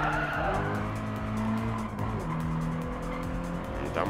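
Race car tires squeal loudly and continuously under late braking in GT Sport, with the engine tone sliding down beneath the screech.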